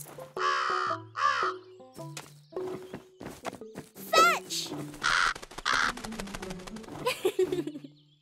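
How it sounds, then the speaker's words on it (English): A house crow caws repeatedly in an urban setting, harsh calls recurring across the stretch amid other animated character voices and busy background sounds. "I'm glad Zari got to meet her house crow friend again"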